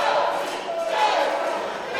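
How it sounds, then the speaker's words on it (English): Wrestling crowd at a WAR Wrestling event roars in a steady, dense wash of cheering and shouting, with a commentator's voice running over it throughout. "You hear this War crowd trying to get behind Cody."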